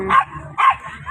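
Two sharp dog barks, about half a second apart, fairly close, over a low background murmur.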